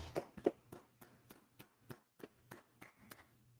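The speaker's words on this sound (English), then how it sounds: "All right, let's clap it up." Hands clap in a slow, even rhythm at a gathering in Washington DC, about three crisp claps per second, fairly faint and with no talking.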